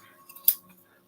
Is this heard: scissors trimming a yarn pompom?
yes